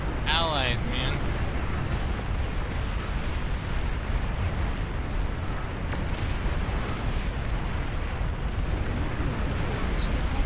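Units blown apart in the real-time strategy game Beyond All Reason: a dense, sustained wall of rumbling explosions and crackling blasts, loud and continuous, with a voice briefly heard near the start.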